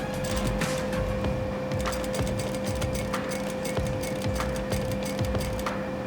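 Industrial sewing machine with a roller foot stitching a quarter-inch hem in fabric at standard stitch length, a steady close mechanical whir with a rapid, even clicking rhythm running throughout.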